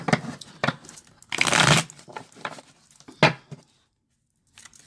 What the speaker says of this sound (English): Just going to shuffle a couple times.